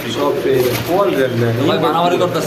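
Beauty pigeons cooing at a pigeon farm, with repeated rolling coos that come close and fairly loud and overlap with a person talking throughout.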